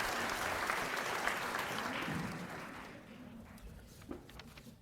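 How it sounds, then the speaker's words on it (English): An audience at a county sports awards and hall of fame ceremony applauds the honorees, the clapping steady at first and then thinning to scattered claps toward the end. "Let's give a round of applause to all of our honorees."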